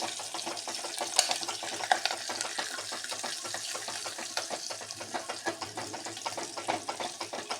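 Dense crackling and spattering of mustard seed tempering with green chilli in hot oil, a steady busy sizzle with sharper pops scattered throughout, close and fairly loud.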